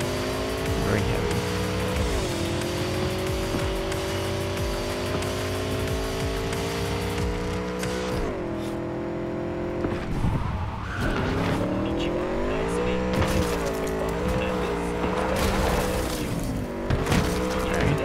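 A heavy motorcycle in Cyberpunk 2077 rides along with a loud, steady engine drone that rises and falls as it changes speed and leans through turns, alone and close.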